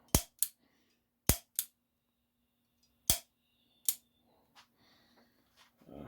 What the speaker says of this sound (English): This is my new sear and trigger. You see it's automatically resetting.